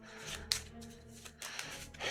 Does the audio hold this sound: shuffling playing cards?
yes